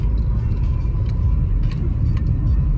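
Steady low road rumble inside a moving car, continuous and fairly loud from start to end with faint higher hiss above, no talking.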